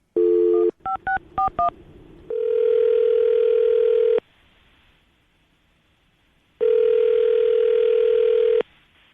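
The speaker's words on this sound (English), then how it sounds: "we're gonna give him a call right now." A phone line sounds a steady dial tone, then a quick run of touch-tone keypad beeps, followed by two long stretches of ringback tone with a silent pause between them, all loud and close.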